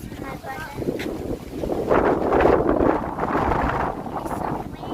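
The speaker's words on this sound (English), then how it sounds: "It's so windy." Strong wind buffeting the microphone outdoors, a continuous roaring rumble that swells in the middle of the clip, with faint voices beneath.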